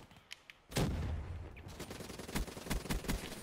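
A long-range gunshot in a multiplayer shooter game cracks sharply, then a dense burst of rapid gunfire rattles on with repeated loud reports.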